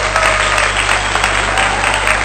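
A room full of listeners claps together in continuous, loud, evenly textured applause, a dense patter with no single claps standing out and no talk over it.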